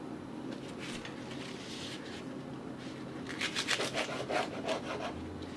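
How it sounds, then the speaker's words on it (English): A knife cuts through vegetables, including cabbage, on a board in a home kitchen, giving soft rasping strokes. The strokes become a quicker, louder run of chopping scrapes toward the second half. "The next thing I do is I cut up some of the bigger vegetables so they're easier for her to eat."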